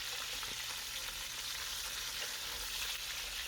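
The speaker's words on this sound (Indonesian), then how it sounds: "goreng ikan yang tadi ya. Diamkan beberapa saat agar di bagian sisinya berwarna keemasan." Fish frying in an old stainless steel wok, a steady close sizzle of hot oil with faint crackles and pops throughout, no talking.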